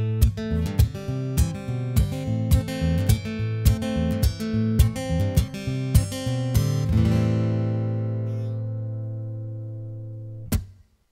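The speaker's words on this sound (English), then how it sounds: "Now this is the sound of the guitar with BodyRez turned on." Acoustic guitar through a Play Acoustic processor with BodyRez switched on, strumming a rhythmic chord pattern for about seven seconds before one last chord rings out and fades, closed by a brief muted strum near the end.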